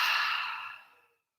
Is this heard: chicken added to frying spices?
no